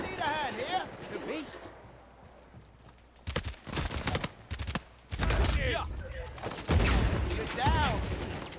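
Rapid bursts of gunfire crackle in a firefight in Uncharted 4 multiplayer, several volleys of shots interspersed with someone talking and game voices.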